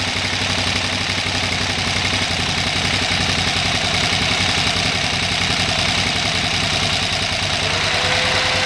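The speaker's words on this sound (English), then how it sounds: "You'll hear the idle RPM drop." A 2008 KTM 990 Adventure motorcycle idling rough in place, its engine a loud, continuous, close drone with a steady throbbing pulse as the RPM sags, with no talk.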